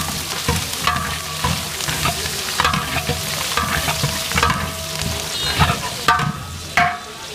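Green chilies and onions frying in oil in a pot for khichuri, with a loud steady sizzle broken by repeated scraping stirs of a spatula.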